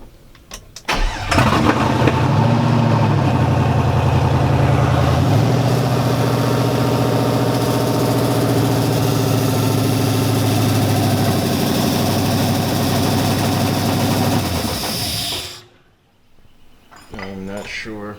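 A 1976 Chevy C10 V8 fires up on its first start after new wiring, cranking briefly before catching into a loud, steady rumbling idle that runs for about fourteen seconds, then cuts off abruptly into near silence.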